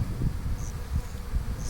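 Honey bees in a shipped package hum with a low, continuous buzz and pulsing swells, close by, with a few higher whining passes from individual bees.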